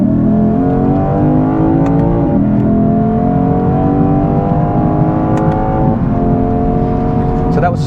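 A 2024 Lexus IS 500's naturally aspirated engine pulls hard through the gears, a loud steady drone rising in pitch with two quick shift breaks, heard from inside the car with road noise beneath.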